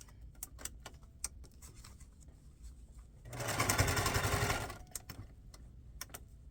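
A sewing machine stitches through strips of paper and fabric scraps in one steady burst of about a second and a half, quiet and close, surrounded by faint handling clicks and taps.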